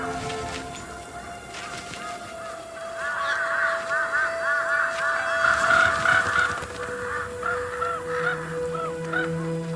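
Crows calling in a snowy Siberian forest, a run of harsh repeated caws that builds through the middle and then thins out, close and loud over quiet wind.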